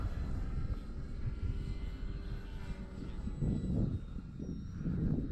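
An E-flite Cherokee RC model airplane flying and landing into a strong headwind on a dark morning, a faint, distant engine drone over wind noise, swelling slightly near the end.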